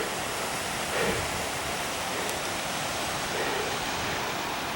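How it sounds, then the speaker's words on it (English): A waterfall on a high Colorado mountain trail near Maroon Bells roars steadily from the top of the falls, a broad, constant rush of water close by without speech. "We're at the top of the waterfall all of a sudden."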